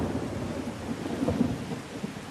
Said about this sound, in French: Faut finir et il pleut.